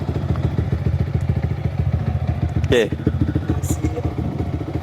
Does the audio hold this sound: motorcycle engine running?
yes